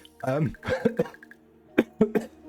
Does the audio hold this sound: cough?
yes